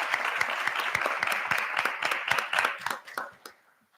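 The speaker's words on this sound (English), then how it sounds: "please give her a nice round of applause." Audience applause at a school board of education meeting, a few seconds of steady hand clapping from a modest crowd in a room, fairly close, tapering off to silence at the end.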